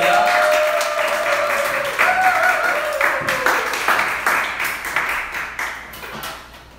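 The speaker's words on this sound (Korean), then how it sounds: "박수로 환영하겠습니다." Church congregation clapping to welcome a pastor at an anniversary worship service, sustained applause that thins into scattered claps, with voices and whoops mixed in.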